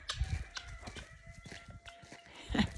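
Guinea fowl call on a farm walk, harsh rhythmic cries repeating in short bursts. They sound moderately distant and faint against outdoor background noise.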